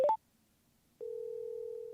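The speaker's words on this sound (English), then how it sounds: "I can either double tap the media button or simply say, hey Cardo, speed dial." A Cardo HJC 4X Bluetooth intercom plays a couple of quick electronic beeps for speed dial, then a short silence and a steady, sustained tone, clean and close.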